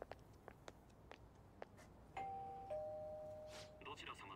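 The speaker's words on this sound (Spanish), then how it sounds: "Toca todo el timbre." A doorbell chimes twice in the video game Persona 5 Royal, two sustained ringing tones, heard clearly after a series of short ticking clicks and followed by a burst of game sound.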